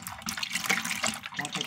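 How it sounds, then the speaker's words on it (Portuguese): Cooking oil is poured into lye solution for homemade liquid soap, making a continuous close splashing, gurgling pour of liquid. "vou colocar o óleo na soda,"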